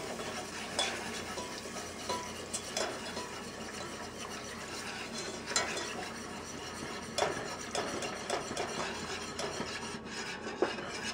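A whisk scrapes and clatters steadily around a pan as milk is worked into a sauce for a soft shepherd's pie over medium-high heat, with quiet rhythmic scraping, occasional sharper clinks and a soft background hiss.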